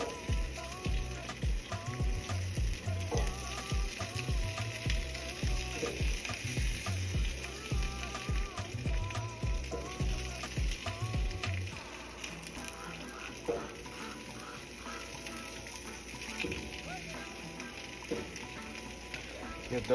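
Carne asada taco fillings sizzle on a griddle with beef tallow, a busy crackling fry with clattering scrapes and stirring, louder for the first half and then settling into a calmer hiss.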